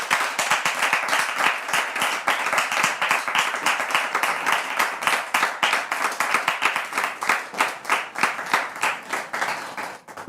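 A studio audience on a French talk show claps warmly to welcome guests onto the set, a dense, steady round of applause that carries on for several seconds before tapering off at the end.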